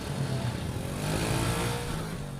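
Small kapcai motorcycle engine running near and steady after starting, a low mid-pitched putter with a faint rev, heard alone without talk.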